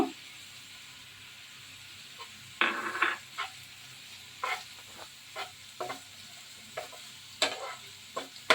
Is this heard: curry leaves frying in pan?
yes